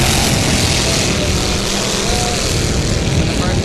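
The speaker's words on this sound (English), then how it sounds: "All right, our vintage boat out on the water." A small vintage racing boat engine drones out on the water at a regatta, a loud, steady roar filling the whole stretch without a break.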